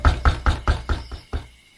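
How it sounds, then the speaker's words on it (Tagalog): Loud, close knocks pound on a door, a quick run of five evenly spaced heavy raps, a short pause, then one final knock that rings out into silence. "Maya-maya, may malakas na kumatok."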